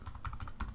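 Quick, close keystrokes clatter on a computer keyboard as a Minecraft command is typed, a short run of crisp taps with no voice.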